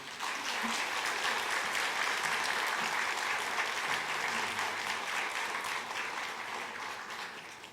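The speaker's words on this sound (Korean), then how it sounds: "큰 박수로 환영하죠." A church congregation at a Sunday worship service in Seoul gives a missionary a big welcoming round of applause, a full, even roar of clapping that holds steady for several seconds and eases off slightly at the end.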